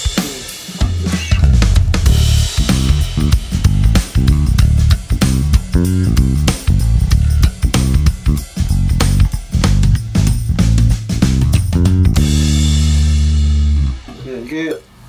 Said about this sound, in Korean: 양쪽 픽업 다 들어갔던 핑거 소리였고요.